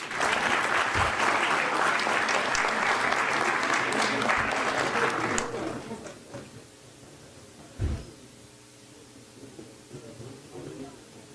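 An audience at a Masonic Grand Lodge year-end closing ceremony in Bahia gives a loud, dense round of applause that runs steadily for about five seconds, then breaks off into scattered claps and a single thump as the room quiets.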